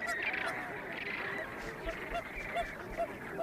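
A flock of flamingos on a desert salt pan honks and gabbles continuously, many goose-like calls overlapping at moderate distance with a few sharper cries standing out.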